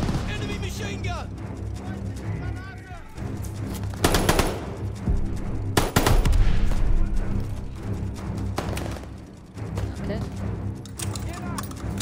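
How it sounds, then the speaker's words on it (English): Enemy machine gun in a Call of Duty: Vanguard campaign battle rattles in loud sustained bursts, with heavy booms and explosions around 4 and 6 seconds amid layered combat noise and shouted voices. "Enemy machine gun!"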